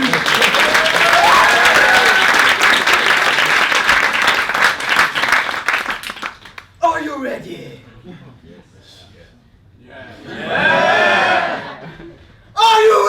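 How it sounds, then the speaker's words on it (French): A theatre audience at a comedy stage show applauds the first challengers, with loud dense clapping, a few whoops and cheers, then the clapping stops and voices speak, followed by another brief swell of cheering. "On les applaudit."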